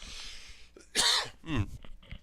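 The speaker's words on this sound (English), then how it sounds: "I'm going to cough." A single harsh cough, close and loud, followed by a shorter throaty follow-up, set against a faint background hiss.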